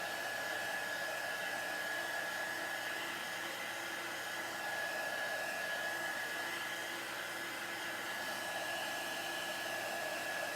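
Hair dryer blowing steadily to dry layered chalk artwork, a continuous loud whooshing roar with a high whine, unbroken and close for the whole stretch.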